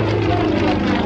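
A Yak-50 propeller aerobatic plane flies at an air show, a loud continuous buzzing engine and propeller drone that holds steady and close for the whole second.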